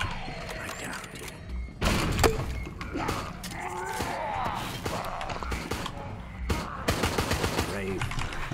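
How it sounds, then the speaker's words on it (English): Machine gun fire in the Resident Evil Resistance video game: repeated bursts of rapid shots mixed with mechanical clanks and thuds, fairly close and set amid other game sounds. "I'm singling him out with a machine gun"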